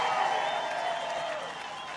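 A large crowd at a political rally on the Iowa fairgrounds, sustained applause and cheering as a steady wash of sound that eases slightly near the end, with no clear individual voices.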